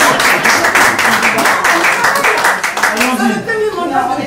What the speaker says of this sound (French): Laissez-moi l'applaudir.